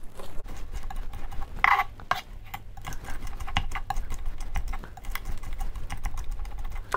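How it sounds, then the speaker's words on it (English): A knife's flat side scraping and mashing garlic on a cutting board, a steady run of small dry clicks and taps with a brief louder scrape partway through. "I'm using a kind of grinding motion to mash the garlics with the flat part of the knife"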